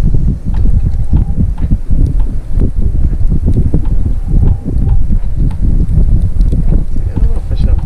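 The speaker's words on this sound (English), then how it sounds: "Almost like the wind is just pushing me straight sideways instead" Strong gusting wind during a squall aboard a sailboat, buffeting the microphone with loud, rough low rumbles and irregular thumps throughout, with a voice speaking at times.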